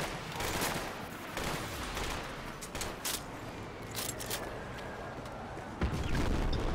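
Rapid bursts of assault rifle gunfire in Battlefield 2 Project Reality on the Bijar Canyons map, repeated loud cracks and volleys with distant shots echoing across a canyon battlefield, no talking.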